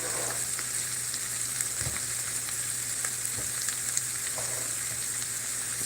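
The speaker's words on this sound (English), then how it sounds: "you should hear that crackling sound, and that's how you know that it's cooking and that onion really well." Onion frying in a pan, a soft continuous sizzle with scattered crackles and pops, fairly quiet and with no talking.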